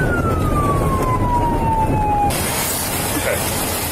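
An ambulance siren winds down in one long falling tone before cutting off abruptly, under steady road and engine noise, fairly close.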